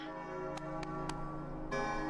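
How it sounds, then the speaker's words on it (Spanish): A bell rings in Kingdom Hearts Re:Chain of Memories, a sustained metallic tone with a few sharp chiming strikes over a low game music bed, all within about two seconds. "¡La campana!"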